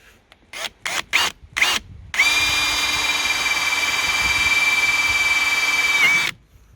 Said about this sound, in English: drilling into the clam. So I'm going to put a pilot hole on this side.